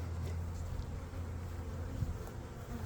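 Honey bee swarm buzzing in an apiary, a thick, continuous low drone from many bees close by, steady throughout with no talking.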